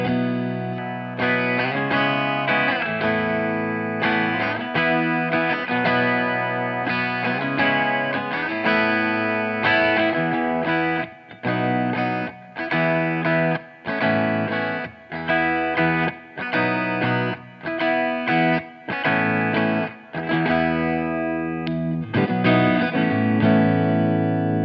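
Electric guitar played through a PRS SE NF53 with mini humbucker pickups, heard alone with sustained chords and riffs that ring and bloom, steady and loud with rhythmic pauses in the middle section.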